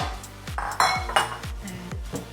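Pots, dishes and cutlery being handled in a kitchen, a series of about five sharp metallic clanks and clinks at irregular intervals, close and moderately loud, with no talking.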